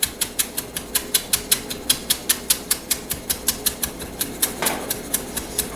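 A razor-sharp knife cuts fresh basil into a thin chiffonade, a quick even series of about twenty crisp taps on the board, close and steady, with no talking.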